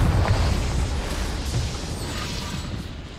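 Confringo fire spell blasting in the Hogwarts Legacy game, a deep rumbling explosion that booms loudly at the start and slowly fades over a few seconds with no talking.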